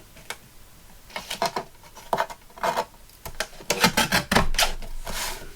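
A strip of paper trimmed off a Christmas tri-fold card during a craft project, a run of short crisp snips and rasping cuts in irregular bursts, close and fairly quiet, with no talking.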